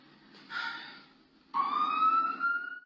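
An ambulance siren wails in two rising sweeps, a short faint one followed by a louder, longer climbing tone, heard from a moderate distance.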